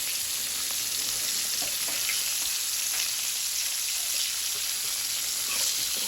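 Chopped onions frying in hot grease in a pan, a steady, dense, close sizzle that holds at an even level throughout with no talking, while being cooked alongside beef liver.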